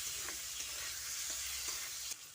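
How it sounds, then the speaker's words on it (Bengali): Marinated masoor dal stirred and fried with tempering spices in a pan, a steady close hiss of frying with faint scrapes from the spoon, brief and without speech. "ডালটা দিয়ে ফোড়নের সঙ্গে কিছুক্ষণ নাড়াচাড়া করে নিচ্ছি"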